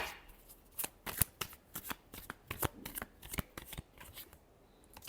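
Tarot cards are shuffled by hand in a rapid series of crisp riffling snaps and slaps, about a dozen close, sharp bursts in an uneven rhythm with no voices.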